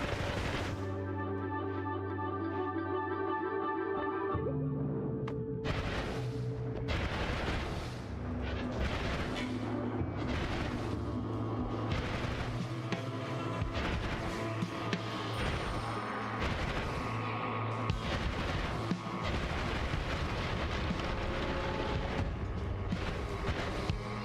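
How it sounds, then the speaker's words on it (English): Explosions in the video game Noita, a string of booming blasts and crackling bursts over a steady droning game soundtrack, dense and continuous with sharp hits scattered throughout. "explosion!"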